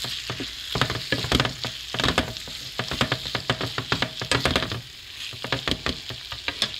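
Brunch sandwich filling sizzles and crackles in a pan while a utensil stirs and scrapes it in quick, uneven strokes. The frying stays up close and steady, with no voices.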